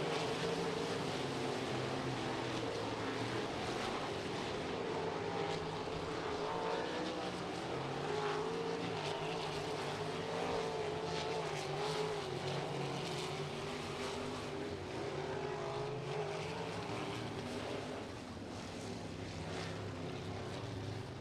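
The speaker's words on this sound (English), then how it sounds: "Lee Ghost Jr. scores the win here at I-90 Speedway in the IMCA Sprint Cars." IMCA RaceSaver sprint car engines drone continuously at close range at I-90 Speedway, a dense roar of several cars circling with a steady rumble and no pauses.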